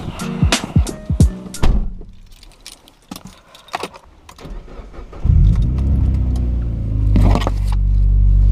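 Mazda MX-5 sports car: keys jangle and a door or interior handling comes first, then the engine starts and settles into a loud, steady mid-pitched drone that builds as the car pulls away and accelerates, with a brief higher surge near the end.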